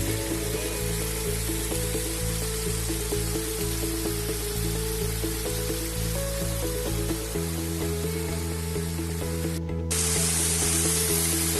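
Thipakhol waterfall near Sinapali, Nuapada pours steadily in a dense, constant rush of spraying water, loud and close, with a continuous low hum beneath that drops away partway through while the roar carries on.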